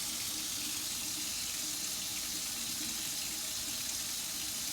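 Tap water runs steadily into a sink during handwashing with soap, a loud, continuous, even hiss and splash close by with no breaks or voices.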